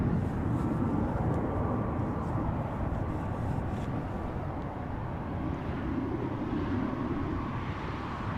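KLM Boeing 737-800 arriving at Amsterdam Schiphol, a steady broadband jet roar at moderate distance that stays fairly even throughout.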